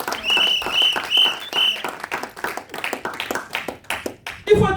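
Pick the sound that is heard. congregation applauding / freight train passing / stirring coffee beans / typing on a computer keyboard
congregation applauding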